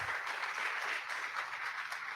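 Sustained audience applause at an academic talk on tourism and gentrification, a dense, even wash of many hands clapping steadily throughout with no voices standing out.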